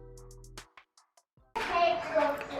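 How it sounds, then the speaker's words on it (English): Children at play in a room next door to a hallway utility closet, their voices and bustle loud and busy after a quieter stretch of scattered small sounds. "The kids are playing. Their playroom is literally next door to this closet"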